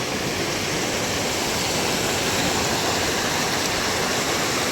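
Loud, steady roar of fast-moving floodwater rushing past close by in Hojai, Assam, a continuous broadband churn with no pauses.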